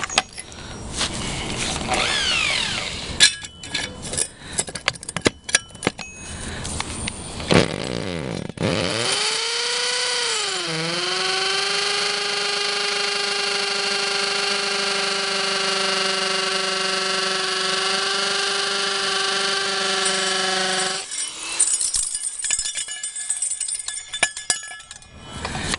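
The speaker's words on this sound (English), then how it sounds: "we'll get these drilled and mounted" A power drill boring into carport mounting parts: clattering handling noises first, then a long loud steady whine that rises and settles, runs about twelve seconds and stops abruptly, followed by more rattling.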